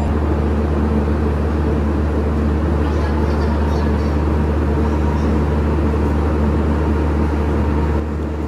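The diesel power car of an LHB coach on the Kapotaksha Express roars at Darshana Halt station, a loud, steady, low engine drone with a broad mechanical rumble that holds unbroken for the whole stretch.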